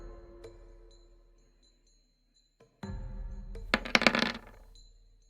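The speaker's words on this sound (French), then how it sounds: "Je lance 3 dés." Three dice rolled during a tabletop role-playing game session, rattling and clattering sharply on a hard surface for about a second and a half, close and loud, after a quiet pause.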